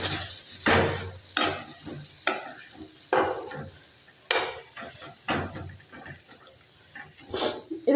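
Cut potato pieces tipped into a hot pan for a Tamil-style potato masala and stirred, with repeated scraping and clattering strokes over a steady sizzle, close and fairly loud, and no talking.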